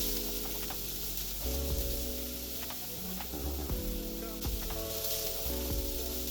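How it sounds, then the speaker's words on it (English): Diced onions sizzle steadily in hot olive oil, with a continuous, close frying hiss and occasional stirring scrapes and pops throughout. "add 150 grams of diced onions. Give it a little saute."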